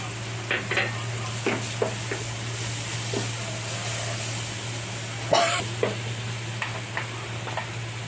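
Sweet corn chilli mixture fries in a pan with a soft, steady sizzle, punctuated by several scraping stirs and a louder clatter of a spoon against the pan over a constant low hum.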